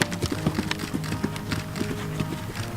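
A horse in a riding arena moving through a rhythmic gait, its hoofbeats landing in steady repeated clip-clops at close range, with a faint voice briefly present.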